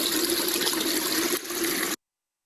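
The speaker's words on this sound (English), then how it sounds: "I want you to notice how little water is coming through." Water trickles from a wetland over a street curb in a steady hissing flow, close and fairly loud, with a brief dip in level before it cuts off abruptly.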